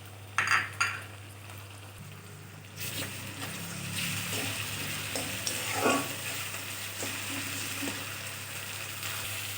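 Onion and garlic paste hits hot oil in a pan for a Bengali fish curry, a close steady sizzle running throughout with scattered stirring clinks, a brief louder splash of sizzle near the start.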